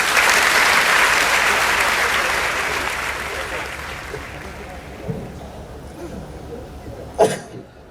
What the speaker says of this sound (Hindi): दोनों हाथ उठाकर जोरदार तालियों के साथ इस कार्यक्रम का